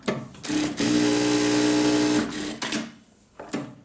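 A new industrial sewing machine running for the first time, a loud steady whirring stitch run of about one and a half seconds, followed by short mechanical clicks and thread-cutting sounds nearby.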